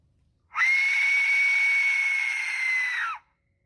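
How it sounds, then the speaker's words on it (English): An Aztec death whistle gives one long, piercing, scream-like shriek lasting about two and a half seconds. It starts and stops abruptly, holds a strained, breathy, steady pitch, and sounds loud and close against silence. "this is actually based on the Aztec death whistles, which is a whistle that if you blow into it sounds like a person screaming"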